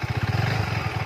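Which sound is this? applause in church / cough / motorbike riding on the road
motorbike riding on the road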